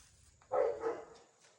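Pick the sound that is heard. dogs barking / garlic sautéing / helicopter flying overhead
dogs barking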